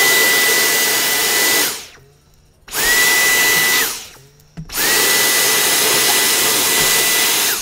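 Small vacuum cleaner, used during an iPad 5 charger port replacement to pick up powdered glass, runs loud and steady in three bursts, cutting off twice for about a second before starting again.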